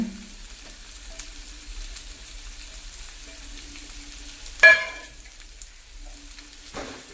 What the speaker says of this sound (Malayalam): നമ്മൾ ഇതിൽ വല്ലുള്ളി കട്ട് ചെയ്തത് പാടെ ഇട്ട് കൊടുക്കുന്നുണ്ട്